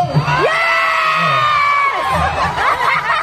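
A dense crowd at a Philippine Independence Day gathering in Hong Kong shouts and cheers loudly, with sustained high-pitched whoops and voices rising over one another, mixed with laughter and chatter close by.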